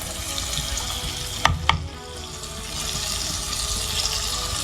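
Tomatoes tipped into a hot pan of frying chicken legs with onion, giving two quick clattering hits over a steady background sizzle, no voices.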